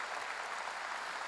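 A church congregation at a revival meeting applauding, a brief dense patter of many hands clapping at steady volume.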